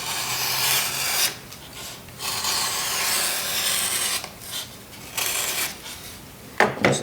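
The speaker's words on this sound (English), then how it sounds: "And then we take our knives and we can cut off these edges so it looks a little more weathered." A knife shaving and rasping along the edges of a carving foam block, close scraping strokes in several bursts with short pauses between them, no talking.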